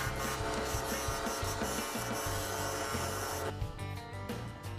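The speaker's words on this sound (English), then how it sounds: "take advantage of the lathe's rotation to sand the wood" A wooden knife handle spins on a lathe while being sanded, giving a continuous motor hum under a dense, steady rubbing rasp that changes character partway through.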